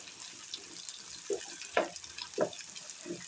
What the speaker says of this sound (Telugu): ఆయిల్లో కాస్త ఫ్రై చేసుకున్నాను.